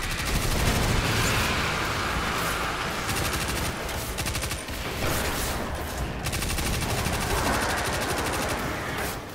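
Sustained automatic gunfire from a Destiny 2 firefight against Hive enemies, dense rapid bursts continuing almost without pause, loud and close throughout.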